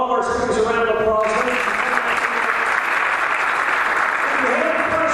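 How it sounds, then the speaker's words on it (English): Audience at a tech talk applauding the speakers, a full, steady burst of clapping from a crowded room that holds for several seconds, with a voice briefly over its start. "let's give all of our speakers a round of applause."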